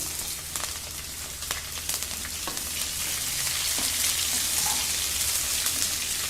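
Onion sizzles steadily in a hot pan with garlic for snake gourd podimas, a close, continuous crackling fry with scattered pops and light stirring.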